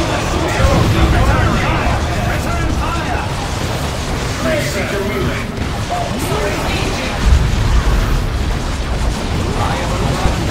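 Dense battle noise from the strategy game Dawn of War 2 Retribution, Eldar campaign, with gunfire and explosions rumbling continuously for the whole stretch and heavier booms swelling around the middle and end, under in-game voices.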